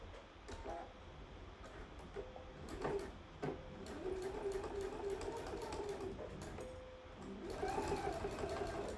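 A sewing machine runs a basting stitch on a fly front zipper, whirring in short and longer bursts with brief pauses between them, close and fairly quiet.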